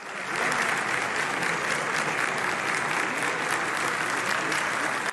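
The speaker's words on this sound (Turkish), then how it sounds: "Dem Parti eş genel başkanı Tuncer Bakırhan'ın sözlerini MHP lideri Devlet Bahçeli uzun uzun alkışladı." Sustained applause in the general assembly of the Turkish parliament during budget debates, a dense, steady clapping that fills the whole stretch at even loudness with no clear words.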